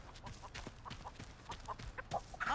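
A chicken clucks in repeated, agitated alarm bursts in The Texas Chainsaw Massacre video game, close and clear with no talk over it.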